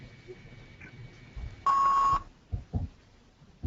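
A single electronic beep from a caller's phone line cuts into a meeting call, a short, loud, steady tone lasting about half a second over faint line noise, followed by brief thumps.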